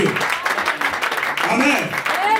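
A church congregation at an anniversary service applauds together, a dense wash of clapping mixed with cheering voices and calls, steady and fairly loud throughout.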